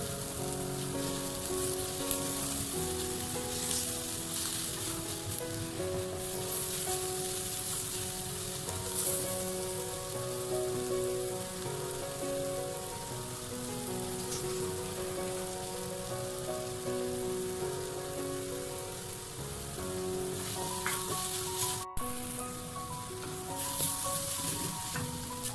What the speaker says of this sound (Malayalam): ഇനി നമ്മൾ ഇഞ്ചി, വെളുത്തുള്ളി, പച്ചമുളക് ചതച്ച് വെച്ചത് നമുക്ക് അതിലേക്ക് അങ്ങ് ഇട്ട് കൊടുക്കാം